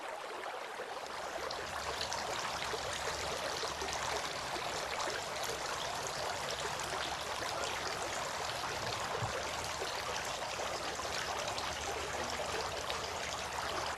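Water streams and trickles steadily throughout Islamic ablution washing, a continuous close splashing flow with no talk over it.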